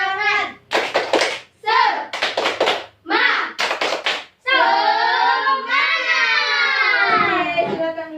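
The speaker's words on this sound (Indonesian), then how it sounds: "Tepuk semangat." A class of fifth-graders follows their teacher in a rhythmic spirit clap, with short bursts of clapping alternating with chanted and sung voices, close and lively.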